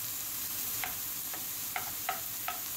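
Mushrooms and onion sizzle in a frying pan with a constant hissing fry, punctuated by four or five light clicking taps of a utensil stirring against the pan.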